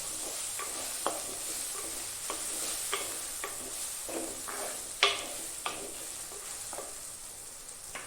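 A spoon stirs fish roast in a pan, scraping out a series of irregular sharp strokes over a soft, steady sizzle, close and moderately quiet.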